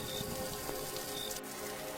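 Rain falls at night in a cartoon, a steady dense patter of drops hissing continuously throughout, with faint tonal background.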